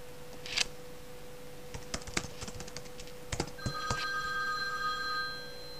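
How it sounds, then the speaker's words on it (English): A telephone rings with a clear electronic tone in a quiet room, steady and moderately near, after scattered clicks of computer keyboard typing. "The phone's ringing too."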